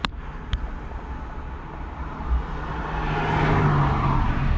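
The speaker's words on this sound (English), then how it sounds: "We're gonna give her the beans up this big hill here." A Chevrolet Spark EV with traction control off accelerates hard up a big hill. There is a whooshing road and tire roar that swells steadily louder over a few seconds, with no engine note, heard from inside the car.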